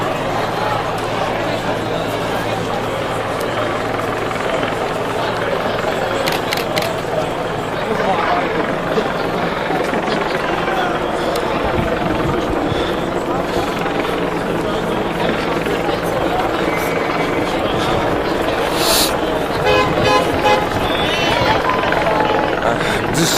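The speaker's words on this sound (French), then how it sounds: "State Police Chopper." A Sûreté du Québec police helicopter drones steadily overhead through the whole stretch during a Halloween masquerade street protest, its loud rotor hum blending with crowd noise and voices talking nearby.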